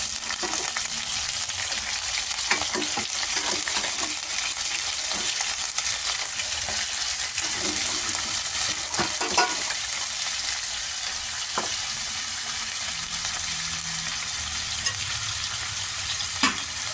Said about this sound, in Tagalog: Ilagay na natin ang ating beef. Igisa natin.